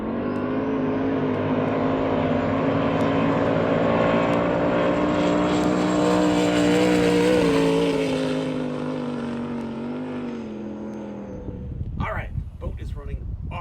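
A twin-turbo jet boat roars at full throttle, engine pitch climbing steadily as it accelerates to over 100 mph, loud and close, then cuts off abruptly near the end, leaving wind buffeting and splashing.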